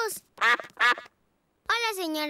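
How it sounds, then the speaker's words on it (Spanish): Cartoon ducks from Peppa Pig quack loudly nearby, two short quacks, a pause, then a longer drawn-out quack. "¡Son los patos!"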